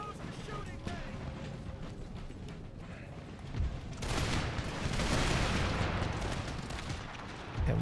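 Massed musket volleys from troops in Empire Total War, a dense crackling fusillade that swells to a loud sustained roar midway, with a voice talking over the battle din.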